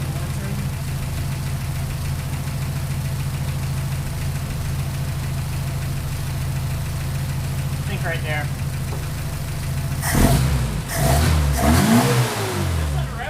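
Opel GT engine fitted with Weber DCOE carburetors, running at a steady idle with a low drone, then blipped into a few sharp revs toward the end; a voice speaks briefly over it.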